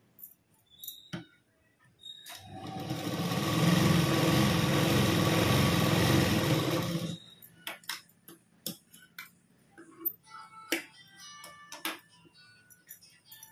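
A sewing machine stitches a katori blouse in one continuous burst of a few seconds, a loud rapid whir with ticking, set between quieter clicks and handling noises.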